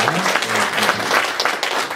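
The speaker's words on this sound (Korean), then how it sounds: "우리 여러분 감사의 박수를 한번 뜨겁게 보내주시기 바랍니다" A crowd claps steadily and warmly, dense applause filling the room without pause, at a church ordination service.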